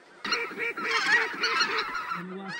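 A flock of snow and specklebelly geese honks continuously overhead during a duck and goose hunt, many overlapping calls close and loud for a couple of seconds.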